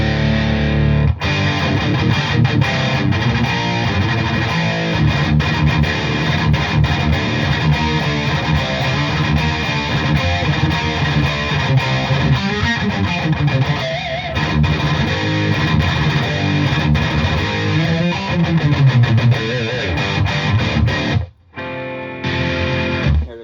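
Heavily distorted electric guitar played through a Mesa 2x12 cabinet loaded with V30 speakers on the gain channel, unboosted, for early-90s death metal tone: dense, continuous palm-muted riffing, loud and close, cutting out briefly near the end.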